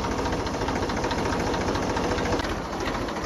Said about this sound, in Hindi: हाँ भाई लोकेश ट्रैक्टर तारो भाई चलाओ